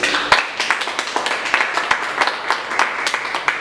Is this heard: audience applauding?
yes